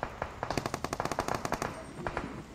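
Rapid automatic gunfire in the mobile shooter game BGMI, a fast steady burst of about twenty shots that slows into a few spaced rounds, loud and close with no talk.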